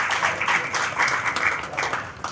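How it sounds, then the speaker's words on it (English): An education expo seminar audience claps for the panel, a loud and continuous burst of many hands clapping together that holds steady throughout. "Let's give a big clap from them."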